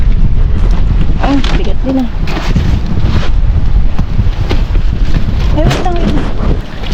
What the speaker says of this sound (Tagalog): Dahil sobrang lakas talaga ng hangin dito.